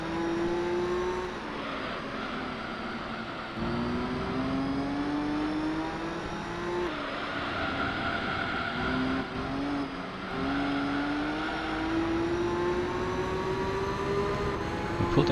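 Racing cars, Toyota Supras among them, roar through the Gran Turismo 3 game with a continuous loud engine drone that climbs in pitch, drops at gear shifts and climbs again.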